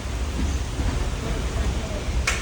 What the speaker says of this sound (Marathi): पाऊस भरपूर पडतोय